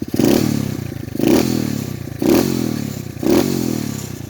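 SSR 125cc pit bike engine idling steadily and close by, with a low rumble that swells in four regular surges about once a second.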